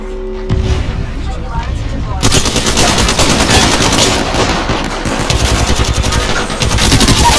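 Apex Legends gunfire during an arena match: dense, sustained automatic weapon bursts fill the scene, loud and continuous, with some layered shots.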